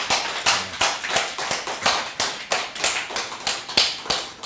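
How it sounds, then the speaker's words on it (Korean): Church congregation claps together in a strong unison rhythm, sharp regular beats about twice a second, loud and close, with no one speaking over it. "하나님께 영광의 박수를 드립니다"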